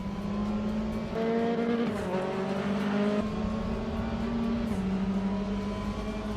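A race car engine in the RaceRoom video game drones steadily, its pitch shifting as gears change, loud and continuous with a muffled, underwater-like tone and no voices.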